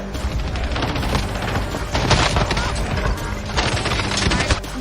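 Fireworks shooting in a video game, a rapid run of sharp crackling pops and bursts in irregular clusters, loud and close throughout.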